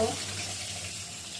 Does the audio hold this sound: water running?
yes